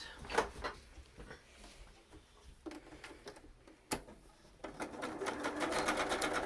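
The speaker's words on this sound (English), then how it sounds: "we're going to sew across the top and the bottom and turn it inside out" A home sewing machine stitches across fabric layers of a cloth face mask, running in short whirring bursts with pauses and handling clicks, then settling into a steadier, faster run near the end, close up with no talking.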